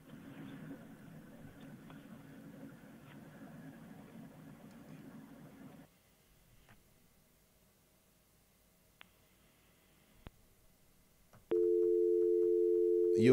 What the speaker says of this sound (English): You've lost the caller, Petra.